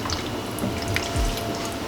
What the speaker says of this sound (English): At this time, we're gonna add our wine and our beef broth.